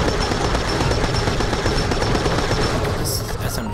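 Rapid sustained SMG fire in the video game Borderlands the Pre-Sequel, a loud continuous stream of shots with a dense rattling texture that holds nearly unbroken for several seconds.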